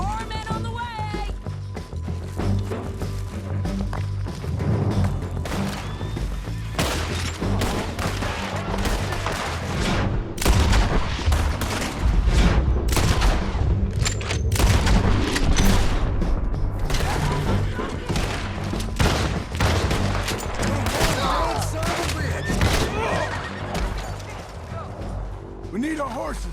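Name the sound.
horses neighing and gunfire in video game Red Dead Redemption 2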